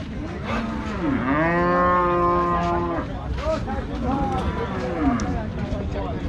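Bullocks and calves moo loudly nearby at a Rajshahi cattle market, several long drawn-out lows one after another, over a busy background of market chatter.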